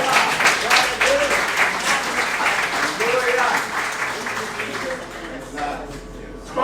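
A church congregation applauds steadily with dense, loud clapping throughout, with voices shouting over the applause.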